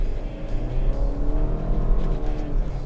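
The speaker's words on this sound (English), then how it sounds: "The Boxer has a unique kind of gruff sound to it." A 2020 Subaru Outback's boxer engine hums and revs steadily with a low, gruff growl, building slightly as it accelerates, with no voices.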